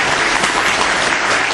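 Steady, dense applause from a seminar audience on Korean real estate finance and REITs, filling the whole short stretch at an even, loud level with no pauses.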